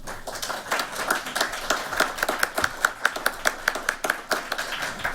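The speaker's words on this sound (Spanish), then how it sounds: "Demos, por favor, un caluroso aplauso a nuestros ponentes." A small audience at an academic law session claps for the speakers. The clapping is sparse and distinct, with individual sharp claps in an uneven rhythm, close and fairly loud, lasting about five seconds.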